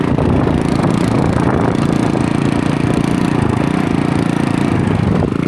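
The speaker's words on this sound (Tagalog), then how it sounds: "Oh, ito pong motor namin, no, parang helicopter po." A motorcycle engine runs close by, a loud, continuous low drone like a helicopter that holds steady without pauses or revving for several seconds.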